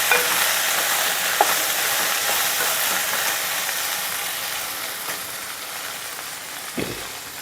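Eggs frying with okra in a pan over a low flame give a steady, even sizzle and hiss throughout, close up, with a few faint stirring clicks.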